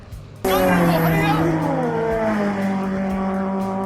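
A Suzuki Hayabusa superbike runs flat out at about 260 km/h with the throttle fully open. A loud, steady engine roar kicks in abruptly and holds with a sustained high-revving drone.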